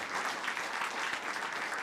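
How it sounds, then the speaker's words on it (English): Audience applause in a hall after a talk on quantum physics and reality, a soft, steady patter of many hands clapping at a distance, even and unbroken throughout. "just one more round of applause, really"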